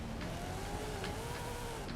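A widebody Honda Civic in Forza Horizon 5 holds a steady, rising engine drone at over 110 miles an hour down a straight, a continuous near-field roar with a slowly climbing pitch and brief tire or gear transients.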